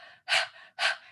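Two quick, forceful belly-pumping breath bursts during meditation, pumped out in a steady rhythm like a dog's panting, each sharp and airy with a softer breath between, close and clear with no talk.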